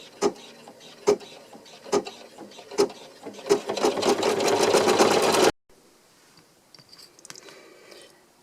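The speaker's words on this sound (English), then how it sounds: "I can begin my decorative stitching before finishing the coasters" An in-the-hoop embroidery machine stitches decorative patterns on coasters, starting with a few spaced needle thumps that quicken into a steady dense whirring run, then stops abruptly, leaving faint handling noises.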